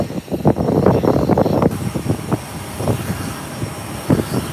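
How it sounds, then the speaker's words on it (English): A Bahamasair ATR 72 turboprop touches down at Howard Hamilton International Airport with a loud, rumbling roar and gusty, pulsing engine and wind noise heard from nearby, fading slightly after the first seconds. "Bahamas Air. Touching down. And it's on the ground safely."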